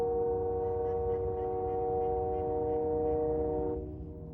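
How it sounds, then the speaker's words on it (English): A train passes on a cold, frozen day, its steady horn-like tones sounding moderately loud throughout before fading away near the end. "I love that sound of the train."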